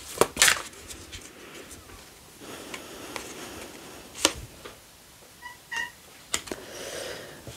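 A cat meowing at a door indoors, short faint meows among light taps and clicks, quiet and somewhat distant with no talk.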